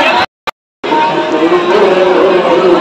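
A large, dense festival crowd at a Guru Nanak birthday celebration fills the air with continuous loud chatter and babble, briefly cutting out near the start before resuming.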